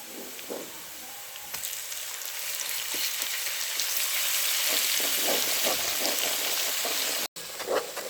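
Onion browned in hot ghee with a tablespoon of ginger garlic paste sizzles and crackles steadily in a pan, a loud continuous frying hiss with scattered spatters and a brief dropout near the end.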